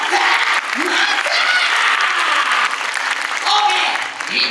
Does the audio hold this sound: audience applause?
yes